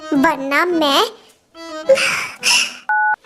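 A phone keypad gives one short, clean electronic dialing beep right after a burst of talking.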